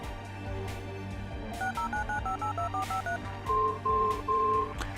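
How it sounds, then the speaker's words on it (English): A video game phone dials out in a quick sequence of clean electronic keypad tones, a run of short beeps followed by three longer, louder tones, heard alone over a low steady hum. "we can simplify this by just calling the phone again"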